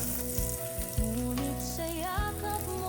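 Crushed garlic frying in a pan for a trevally fish head sinigang, a steady close sizzle running throughout with sustained tonal hum underneath and no talking.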